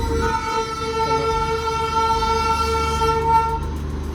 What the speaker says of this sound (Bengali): এখানে আসতেই দেখছি টয় ট্রেন আসছে এই দেখো